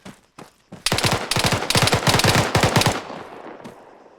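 Rapid bursts of automatic rifle fire crack out during a military-style fireteam training exercise in the 15th MEU (SOC), a few sparse shots first, then a dense sustained volley, close and loud.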